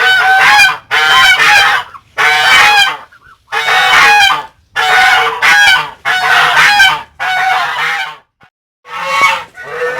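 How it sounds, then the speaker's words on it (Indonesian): Geese in a duck and goose pen honking loudly and close, a run of harsh repeated calls in long bursts separated by short pauses, with no talk over them. "angsanya mulai respon ya kalau saya mendekati untuk indukan"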